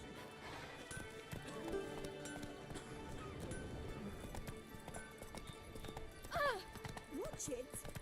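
Hoofbeats of the horse Roach in The Witcher 3, rhythmic clip-clop thuds close by, with a whinny and short voiced calls near the end.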